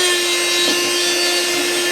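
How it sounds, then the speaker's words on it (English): A carbide sanding disc on a power tool grinds across a wood surface, a loud, continuous, close abrasive roar with a steady high motor whine throughout and no talking. "it's designed as a sander, so you can work across a surface sanding in this motion"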